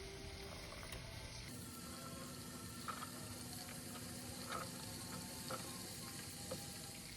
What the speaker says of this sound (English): And the bacon is cooking